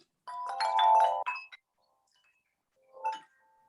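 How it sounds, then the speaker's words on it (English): Tuned musical wind chimes of aluminum and red oak ring out in a bright cluster of overlapping tones that decay, then after a quiet pause a second, softer strike sounds nearby. "Yes, I build musical wind chimes."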